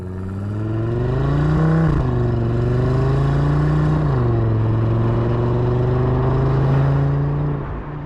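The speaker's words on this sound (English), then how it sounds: "the engine in cylinder sound truly is a highlight" A 2025 Audi RS3's five-cylinder engine revs up and down close by, loud and deep with a grumbling tone. It rises and falls in pitch twice before settling into a steady burbling idle that fades at the end.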